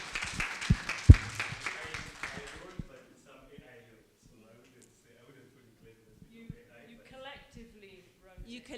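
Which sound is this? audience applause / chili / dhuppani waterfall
audience applause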